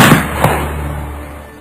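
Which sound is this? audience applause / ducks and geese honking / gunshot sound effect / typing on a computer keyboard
gunshot sound effect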